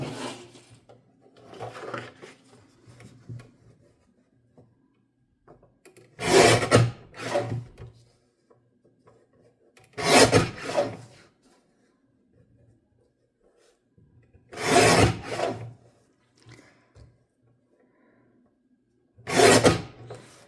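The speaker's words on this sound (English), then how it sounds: "I realize that the cutting sound can be loud" A blade cuts through packaging board for a journal board in four separate loud rasping strokes, spaced a few seconds apart, with soft handling noise between them.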